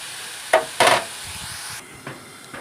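Bottle gourd seeds roasting in a pan are stirred, giving a few short scraping, rustling strokes over a soft steady hiss, close and alone.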